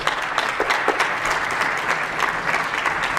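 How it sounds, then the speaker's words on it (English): An audience at a student poetry slam claps steadily and loudly, a continuous dense wash of applause throughout. "Give them a round of applause."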